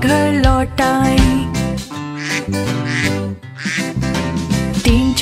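Quacking of a mother duck from a Hindi nursery rhyme, voiced as a sung imitation over bright children's music, repeated several times in a lively rhythm.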